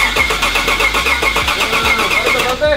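A boosted red 2018 single cab pickup truck engine cranks and fires up, a loud, close, rhythmic starter churn settling into a running engine over a few seconds, with no talking.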